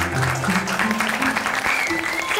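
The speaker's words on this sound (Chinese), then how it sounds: "但是我们还是要用最热烈的掌声，" A classroom gives an enthusiastic round of applause to honour an award winner, with steady dense clapping throughout and some voices mixed into it.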